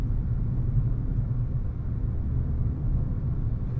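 Steady low road rumble inside a car coasting in neutral at about 55 miles an hour on a New Mexico highway, engine quiet, continuous and even throughout with no talking.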